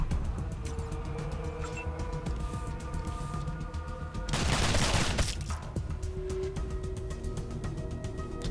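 Gunfire in Wasteland 2, a loud burst of shots in the middle over steady game ambience and music, otherwise quiet with no talk.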